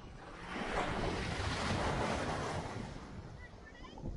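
Surf breaking at St Ives beach in Cornwall, a broad rushing wash that swells, holds and eases off, with some wind buffeting the microphone and no talk.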